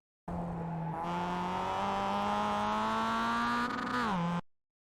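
A Mazda MX-5 at Jefferson Circuit in the iRacing video game brakes hard and blips through quick downshifts. A loud, steady engine note steps up in pitch, then drops sharply before cutting off, with faint tire scrub.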